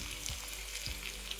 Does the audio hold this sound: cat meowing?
no